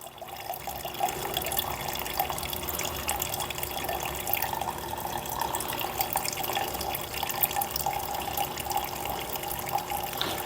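Gasoline drains from a Simplicity snowblower fuel tank in a continuous close splashing, trickling stream that stays steady for the full ten seconds, with no voices.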